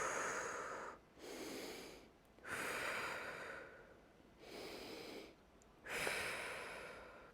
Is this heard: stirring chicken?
no